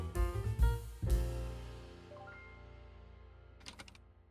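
A few keystrokes on a computer keyboard while writing VBA code in Excel, three quick close taps followed by a softer burst of clicks near the end, quiet and alone.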